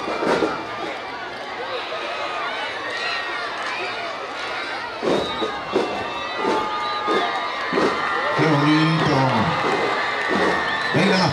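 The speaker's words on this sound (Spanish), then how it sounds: "El aplauso." An outdoor crowd at a school civic parade applauds and cheers the young schoolchildren of Manuel González Prada, with scattered clapping, shouts and children's voices mixed in, plus a speaker over a loudspeaker.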